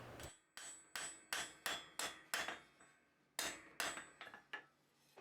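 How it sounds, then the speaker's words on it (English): A blacksmith hammers offsets into a heated round steel bar on an anvil while forging a cooking fork: a steady run of sharp, ringing metallic blows, about a dozen close strikes with a short pause midway. "I'm hammering in the offsets"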